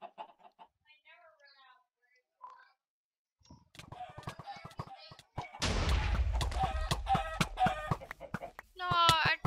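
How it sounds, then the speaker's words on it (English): Chickens cluck in a Minecraft Bedwars match, with sparse faint clucks early and then a loud, busy burst of game hits, thuds and rapid clucking later, including a rising crowing-like cry near the end. "Chickens are dying."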